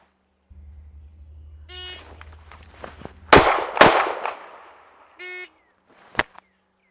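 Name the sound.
Springfield Armory Hellcat pistol gunshots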